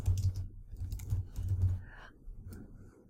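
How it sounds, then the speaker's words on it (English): Rapid clicking of computer keyboard keys as someone types data into a blockchain demonstration, close and fairly loud with uneven bursts of keystrokes and brief pauses, no talking. "So as I type"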